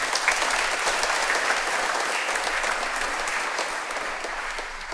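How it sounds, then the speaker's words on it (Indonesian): A church congregation at an Easter Sunday evening Mass breaks into continuous, even applause that fills the room, moderately loud and unbroken for several seconds. "Mari kita beri tepuk tangan juga untuk mereka."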